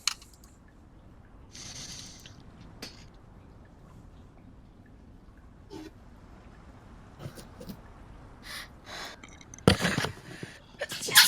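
A person sneezes once, short and sharp, near the end of a quiet stretch at a tabletop role-playing session, after scattered small rustles and clicks.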